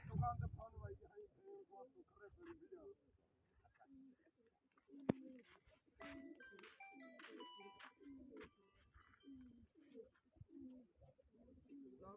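Pigeons coo in soft, repeated low calls at a modest distance, with a single sharp click and faint background sounds in a quiet outdoor setting during a pigeon-flying competition.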